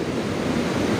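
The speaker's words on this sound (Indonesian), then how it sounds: "Air sungai besar sekali. Banjir bandang dari hulu." Floodwater from a flash flood rushes down a swollen river near a dam in Subang, Indonesia, at night. It makes a continuous, dense roar with no breaks and no voices.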